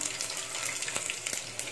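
Mustard seeds and garlic frying in hot oil in a pan while a sambar base is cooked, giving a steady close sizzle with faint crackles and a few sharper pops, and no voices.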